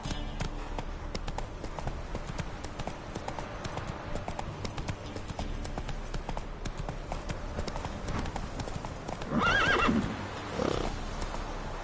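Hooves clip-clopping as a horse runs in the video game Witcher 3, a steady rhythmic beat throughout, with a loud neigh and whinny bursting out near the end.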